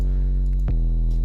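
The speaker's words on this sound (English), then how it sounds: "It's just a sine wave." A steady, pure low synth tone holds alone, interrupted once by a brief click partway through, then continues unchanged.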